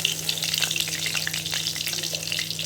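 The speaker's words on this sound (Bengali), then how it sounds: "কড়াইটা বসিয়ে দিয়েছি, তোমার দিয়ে দিয়েছি তেল। এবার তেলটা গরম হবে" Oil heating in a kadai for basanti pulao and aloo dum gives a steady, close, bright sizzle and crackle throughout, with no voices.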